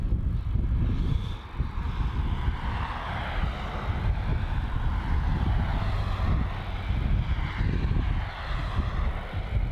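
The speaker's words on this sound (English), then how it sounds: "And turning onto runway 16 now, we have the Malaysia A330-300 heading off to Kuala Lumpur as MH148" A Malaysia Airlines Airbus A330-300 turns onto runway 16 at Melbourne Airport, producing a steady, fairly loud jet engine roar and broadband rumble that holds throughout without voices.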